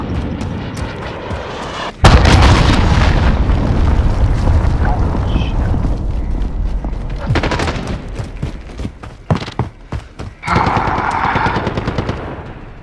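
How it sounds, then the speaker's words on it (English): Heavy explosions and booming gunfire in a video game battle at a cave map, a sudden loud blast followed by rolling rumbles and further bursts, with voices occasionally mixed in. "missile incoming"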